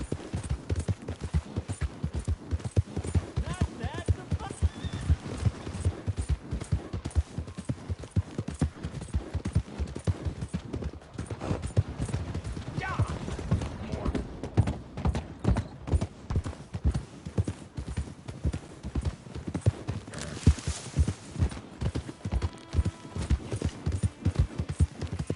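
Horse hooves clip-clopping steadily at a gallop in Red Dead Redemption 2, a continuous loud rhythmic pounding throughout with occasional faint background noise.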